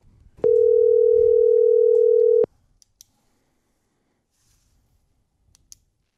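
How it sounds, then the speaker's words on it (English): A steady telephone dial tone, loud and close, holds for about two seconds before cutting off with a click, followed by quiet line noise and a few faint clicks. "Let's see if we can dial him back here."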